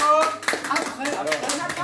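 A crowd at a speech and film screening at Chambord applauds with steady, dense clapping throughout, fairly close, with a few voices mixed in.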